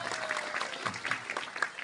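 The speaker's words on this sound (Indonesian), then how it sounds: "tepuk tangan buat kita semua" Applause from a school audience at an Isra Mi'raj assembly, a steady wash of many hands clapping at moderate level, with faint voices mixed in.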